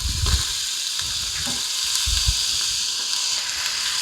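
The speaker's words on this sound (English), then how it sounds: "we're gonna let this cook until our fat renders out of there and our bacon is all cooked" Bacon pieces sizzle and crackle in an Instant Pot, making a steady frying hiss broken by a few soft low thumps and knocks, close and fairly quiet.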